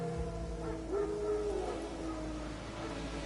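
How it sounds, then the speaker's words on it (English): Wild dogs howling in the video game The Witcher 3, a faint, distant wavering howl over low steady background ambience. "Wild dogs. Yes. More dangerous than wolves."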